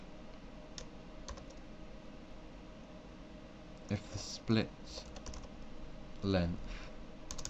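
Quiet, rapid clicking of computer keyboard typing in short bursts, with a brief spoken word partway through and a steady background hum.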